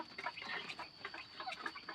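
Bantam chickens cluck softly in a quick patter of short calls, faint and distant-sounding, with a faint steady high whine behind them and no speech.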